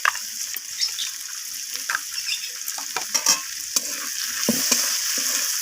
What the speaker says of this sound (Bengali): হলুদ আর জিরে গুঁড়োটাকে মিশিয়ে নিয়ে আমি সবজির সাথে ভাজা করে নিলাম।